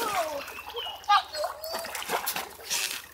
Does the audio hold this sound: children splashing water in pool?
yes